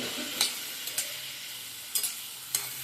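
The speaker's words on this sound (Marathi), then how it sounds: "इकडे भाजी छान हलवून मिक्स करून झालेली आहे" Eggplant vegetable curry is stirred and mixed in a pan, with a few soft, spaced spatula scrapes over a faint, steady background sizzle.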